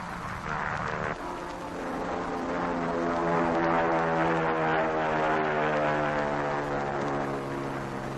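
Navy PBM flying boats droning overhead on propeller engines with a steady, throbbing hum that swells slightly and holds, alone without voices.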